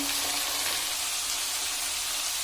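Bitter gourd frying in oil in a pan, a steady, even sizzle and hiss that holds at one level throughout with no talking.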